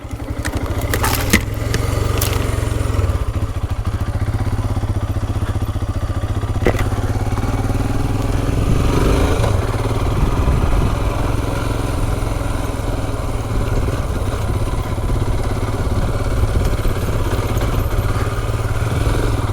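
Royal Enfield Himalayan motorcycle ridden off-road along dirt tracks, its single-cylinder engine droning steadily and close throughout, with some clattering early on and no talk.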